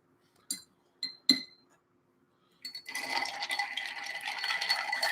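Ice cubes clink sharply against a glass a few times, then rattle continuously as an old fashioned cocktail is stirred, close and clear with no talk.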